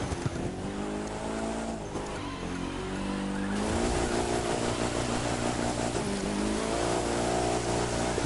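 A car engine in The Crew 2 revs hard and steadily while drifting through snow in a Polar Rush event, a loud, continuous droning roar with shifting pitch and faint tire squeal, no talk.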